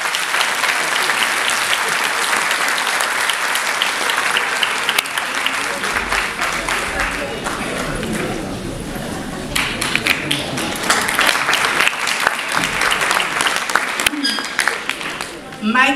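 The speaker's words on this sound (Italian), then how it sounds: "Mai come in questo caso, credo che non si sia trattato di applausi di circostanza" Sustained applause from an audience at a FIDAS festival evening at Showville in Bari, dense clapping running steadily for the whole stretch with a slight dip midway before swelling again.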